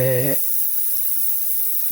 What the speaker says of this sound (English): Now I'm spraying a little bit of Caribe Blue, Candy 2O